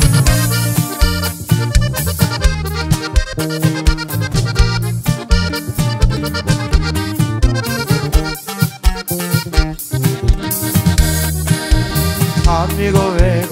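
A band plays a song live in 2022, a loud, full band sound with steady, punchy rhythm, bass and bright melodic lines filling the whole stretch.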